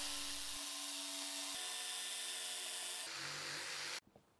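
A loud, steady power tool whine runs continuously, shifting pitch a few times, then cuts off abruptly near the end, leaving a quiet tail.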